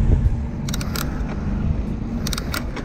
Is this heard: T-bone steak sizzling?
no